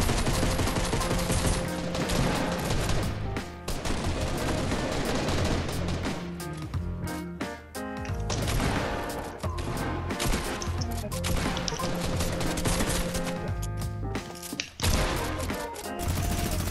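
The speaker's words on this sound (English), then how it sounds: "Whoa, he's got a minigun!" Minigun fire in Fortnite, a dense, loud, continuous stream of rapid shots with crashes and impacts mixed in, sustained throughout with only brief dips.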